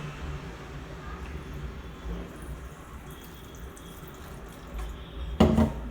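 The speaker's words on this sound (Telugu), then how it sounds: "వాటర్ పోసేస్తాం." Water is poured into a jar holding chili powder, garam masala, turmeric and coriander powder before grinding: a soft, steady splashing wash in a home kitchen, ending in a brief louder burst.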